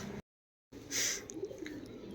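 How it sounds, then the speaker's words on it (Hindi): Soft pigeon cooing close by, as pigeons come to eat grain, after a brief silent gap, with faint chirps and outdoor morning ambience underneath, around 6:30 in Nagaland. "सुबह सुबह जो है ना, कबूतर यहाँ पे दाना खाने आ गए।"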